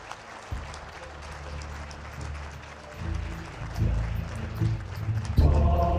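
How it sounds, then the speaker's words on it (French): Audience applause for the second contestant at a forester-of-the-year event, moderate clapping running under low rumbling noise that rises in bursts toward the end. "Je vous prie d'applaudir, mesdames, messieurs"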